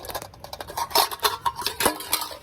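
A camping cooking pot set being unscrewed and taken apart, with close, irregular metallic clinks, scrapes and rattles of nested pieces sounding in quick bursts throughout, with no talking.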